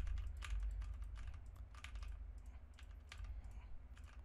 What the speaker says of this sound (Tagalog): right now, nagta-type ako ng kung ano-ano